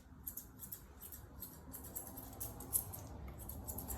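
Scissors snipping through a pet's coat during Asian style grooming, a quick series of faint, crisp metallic snips in an irregular rhythm, close and quiet with no talk.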